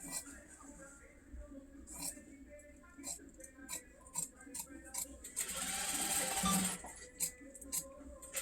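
Scissors cut blouse fabric in a series of crisp, quiet snips, then one longer rustling cut through the cloth, all close and faint.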